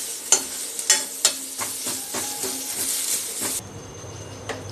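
Curry leaves sauté and get stirred in a hot pan: sharp, rhythmic scraping strokes over a continuous close sizzle, then the stirring stops and a quieter hiss carries on alone.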